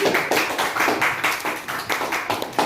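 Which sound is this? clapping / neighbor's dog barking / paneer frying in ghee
clapping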